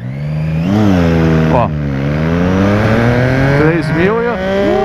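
A Suzuki Hayabusa motorcycle engine revs loud and close, its pitch sweeping up and falling back in repeated surges, while someone talks over it.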